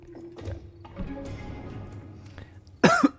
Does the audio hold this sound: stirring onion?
no